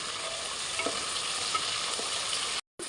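Chicken biryani mixture with mint and coriander frying in a pan, a continuous close sizzle with a few soft stirring knocks, cut briefly near the end.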